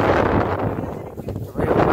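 Strong wind on a hilltop above a village, a steady loud rushing roar buffeting the microphone that eases briefly midway and then surges again.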